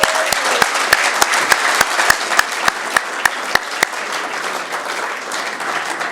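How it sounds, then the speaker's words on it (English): Audience applause fills an awards ceremony hall, broad continuous clapping with a run of sharp, evenly spaced louder claps near the front for about four seconds before the crowd carries on alone. "I think deserves a massive round of applause"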